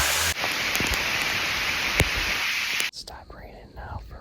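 Steady, dense hiss of heavy rain pouring close by in Iowa, then it cuts out abruptly near the end, leaving quieter patter and a faint whoosh.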